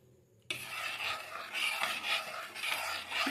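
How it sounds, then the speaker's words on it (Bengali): Black salt and sugar being stirred into drinking water, a close, continuous rasping swirl of a spoon scraping around the vessel with a few rhythmic pulses. "আমি জলটা ভালো করে গুলিয়ে নেব"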